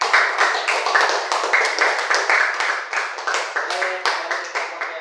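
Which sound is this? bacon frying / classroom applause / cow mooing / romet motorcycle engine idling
classroom applause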